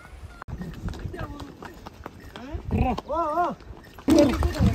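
A pony's hooves clip-clop along a rough mountain path on the road to Gulmarg, close and uneven, with voices and a brief animal-like cry mixed in.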